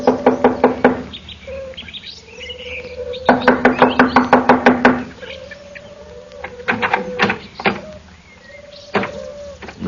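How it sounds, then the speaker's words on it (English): Knuckles rap on a door in a detective audio drama, with quick bursts of several sharp knocks separated by pauses, while bird chirps and calls sound in the background. "I'll knock on the door."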